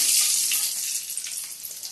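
Steady, bright crackling hiss of fenugreek seeds frying in hot oil, close by and continuous with no voices.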